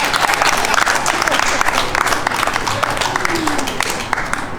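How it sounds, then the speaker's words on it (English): Applause at a graduation party for Long Beach Poly's class of 2022, a steady, loud wash of many hands clapping together that carries on throughout and eases off slightly toward the end. "So, a round of applause for Lua."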